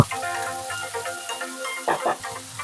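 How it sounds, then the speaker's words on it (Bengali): Boiled banana flower and potatoes fry in a pan with a soft, steady sizzle, and a couple of stirring scrapes come through near the end. "সেদ্ধ করে রাখা কলা মোচা এখানে অ্যাড করে দিলাম এবং আলুর সাথে আরেকটু ভালো করে ভেজে নেব"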